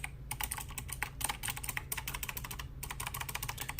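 Fingers type quickly on a clicky Ozwill mechanical keyboard, producing close, crisp runs of key clacks in an uneven rhythm with a couple of brief pauses, with no talking.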